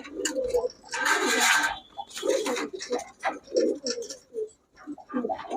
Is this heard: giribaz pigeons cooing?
yes